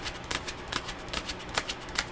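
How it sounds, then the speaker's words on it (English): Tarot cards being shuffled up close, several quick riffling bursts in an uneven rhythm, with no voices. "Let's shuffle a little bit."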